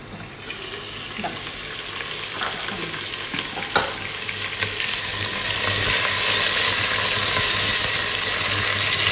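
Onions fried in about three tablespoons of oil in a pan, a steady close sizzle swelling louder toward the end, with a few scraping stirs and clinks of a utensil.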